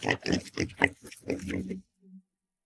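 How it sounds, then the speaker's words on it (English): Pigs grunt and snort in a rapid series of close, loud oinks that stop abruptly, leaving near silence. "And now the pigs are back."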